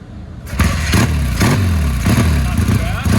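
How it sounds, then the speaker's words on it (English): A custom Triumph Bonneville Street Tracker motorcycle starts from cold, its engine cranking and catching in a few loud, uneven bursts before settling into a rough idle close by, with a voice briefly heard over it. "I'm going to fire it up and I'll take it for a little rip around the parking lot"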